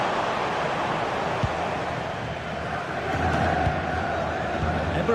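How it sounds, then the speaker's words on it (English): Video-game football crowd roaring steadily as it urges the team forward, a dense, constant wash of stadium noise filling the scene, with a commentator talking over it. "the crowd is certainly trying to motivate the team to push them forward to get the equaliser"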